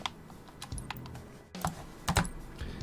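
Computer keyboard being typed on in short irregular bursts of close, crisp key clicks, with a brief pause partway through and no talking.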